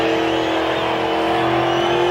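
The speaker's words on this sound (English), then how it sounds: "It's a nice strong engine too." A strong car engine held at high revs during a burnout at the Summernats car festival, a steady, clean, loud drone with no popping, close and continuous for the whole moment.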